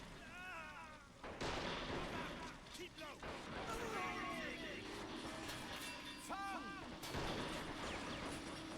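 Grenade explosions and gunfire in the war game Men of War Assault Squad 2, a string of booming blasts and shots with repeated in-game voice callouts, while a player talks over the top.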